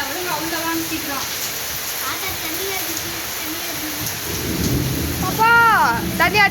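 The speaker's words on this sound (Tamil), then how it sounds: "இடி வருதா. இடி ஐயோ ஒண்ணு வந்துருக்கு மழை." Heavy rain pours steadily during a thunderstorm at a home in Sivaganga, with a low rumble of thunder building near the end; voices talk over the downpour.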